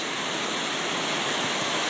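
Flood water roars steadily past a bridge on a Jeffco Open Space trail during the September 2013 floods, a loud, continuous rushing wash with no voices.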